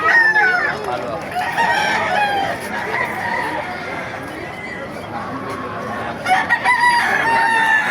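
Several roosters crow at once and in turns in Baliwag, Philippines, long rising calls overlapping amid a busy outdoor yard with people talking.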